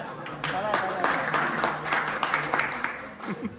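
Clapping breaks out at a 2003 tenth-grade alumni reunion, a short burst of applause mixed with people talking and cheering over it.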